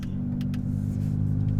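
Golf R with a resonator-deleted exhaust, a steady low droning rumble from inside the moving car, with a few faint brief pops and sputters over it.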